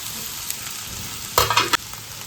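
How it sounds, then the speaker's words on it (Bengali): Curry leaves fry and get stirred in a dry pan, a steady soft sizzle with a short burst of scraping stirring partway through, close and alone with no voices. "কারি পাতাটা একটুখানি ভালো করে হালকা করে ভেজে নিচ্ছি শুকনো খোলায়"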